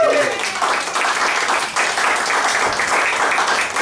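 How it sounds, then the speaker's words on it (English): Audience applause for the musicians at a comedy show, a dense, steady wash of clapping filling the room for a few seconds without a break. "round of applause for the musicians."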